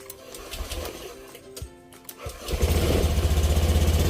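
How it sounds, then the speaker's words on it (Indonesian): Engine cranked by an electric starter running off a homemade battery, a brief attempt followed by the motor catching and running with a steady, loud, rapid putter. "Lalu kita tes untuk starter."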